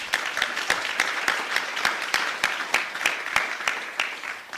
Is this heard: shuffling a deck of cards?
no